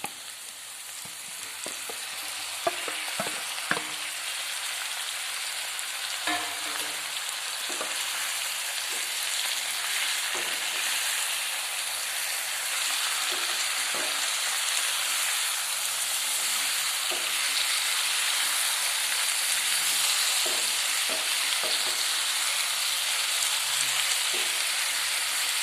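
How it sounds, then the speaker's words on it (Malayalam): Tomatoes fry in a pan for a home tomato fry, giving a steady bright sizzle throughout, with scattered clicks and scrapes as they are stirred. No voices. "അതിനുശേഷം തക്കാളിയും ചേർത്ത് നന്നായി ഇളക്കി ഫ്രൈ ചെയ്യുക."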